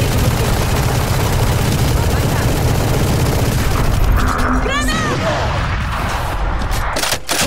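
Gunfire in the shooter game Valorant crackles in dense bursts under a steady roar, with a rising whistling sweep near the end, while someone talks excitedly over it.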